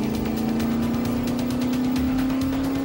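A land speed record car roars across the salt flats, its engine holding a loud, steady drone with a slowly rising pitch and no gaps, close and unbroken.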